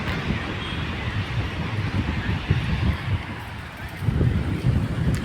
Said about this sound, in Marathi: वारा वगैरे पण खूप आहे